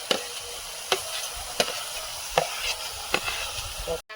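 Shrimp and leafy greens being stirred in a frying pan, a soft steady sizzle punctuated by regular sharp scrapes and taps of the spatula about every second.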